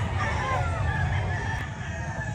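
A rooster at a Bulacan poultry market crows once, close and loud, with a busy low rumble of crowd and market noise underneath.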